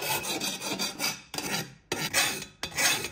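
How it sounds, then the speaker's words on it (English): Metal file rasping burrs off cut steel stove parts made from a fire extinguisher, a close, loud scraping in four long strokes with brief pauses between them. "We'll remove any burrs."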